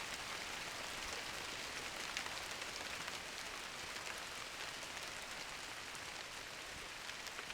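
Steady synthetic rain from a Scratch video game, a continuous faint hiss of falling drops with no talk over it.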